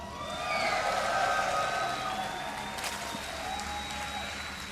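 A crowd at the Red Bull Battlegrounds Austin esports event cheers and applauds for a StarCraft player, a steady, broad roar of clapping and voices that swells early and then holds at a lower level.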